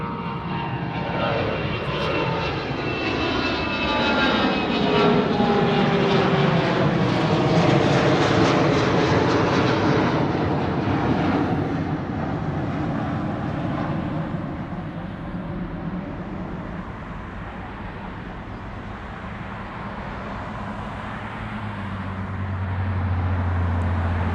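A passenger airliner at Honolulu airport roars steadily for the whole stretch, its engine noise loud and close before fading slightly and rising again, with no one talking.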